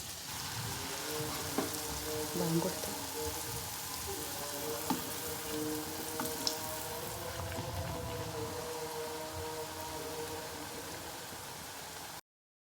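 Snacks deep fry in a hot pan of oil, making a soft, continuous bubbling hiss that stays even for the whole stretch, with a short spoken phrase and a few faint clicks.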